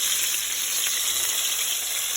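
Fish sizzles steadily in a covered pan over high heat, a close, even crackling hiss with no pauses and no voices.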